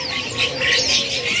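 A brief burst of high, busy chirping from caged lovebirds at Pramuka bird market, close and fairly loud.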